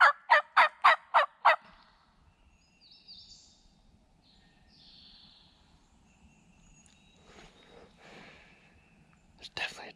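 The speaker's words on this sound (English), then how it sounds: "There's definitely a turkey gobbling." A wild turkey gobbles from a Mississippi hunting spot, a quick loud burst of five or six rattling notes, then quiet woods with faint whispering and rustling and a short sound at the end.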